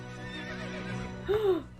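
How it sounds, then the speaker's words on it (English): A horse from a television drama whinnies once, a short rising-and-falling neigh near the end, over a quieter bed of show music and background sound. "Damn horse!"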